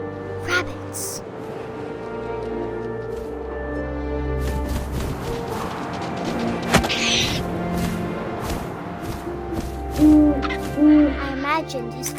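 An owl hoots twice near the end of a scene from the video game What Remains of Edith Finch, set against a steady bed of game music and ambience with a few soft thumps.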